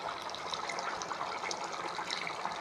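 Prawn curry simmers in a pot on the stove, a steady close bubbling and hissing with no breaks and no talk.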